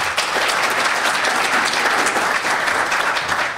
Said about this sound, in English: So give yourself a big round of applause for that.